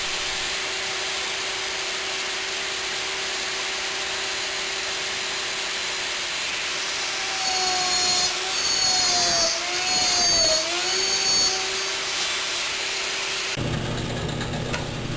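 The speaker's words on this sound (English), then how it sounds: "This gives me lots of opportunities to use my homemade slot mortising machine." A homemade slot mortising machine runs with a steady motor whine while cutting wood, its pitch dipping and swelling midway as the bit loads in the cut, then the drone shifts near the end.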